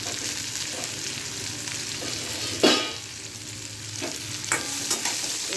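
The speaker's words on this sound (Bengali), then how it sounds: "পেঁয়াজটাও হালকা ভাজা হয়ে গেছে, এর মধ্যে আমি আদা রসুন কাঁচা লঙ্কা কুচিটা দিয়ে দিলাম" Chopped ginger, garlic and green chilli sizzling in oil with lightly fried onion, a soft steady frying hiss broken by a few scrapes and stirs of a utensil in the pan.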